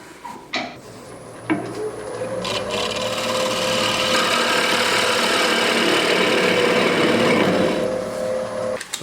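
A wood lathe turns a cherry bowl while the tool cuts the inside, a steady loud rasping hum with a high whine that runs for most of the stretch after a few short scrapes at the start; no talk.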